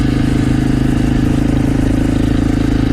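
A Honda AX1 250cc supermoto engine runs in second gear at about 3,000 RPM, a loud, steady, close-up thrum with a strong low pulse that holds evenly throughout, no voices.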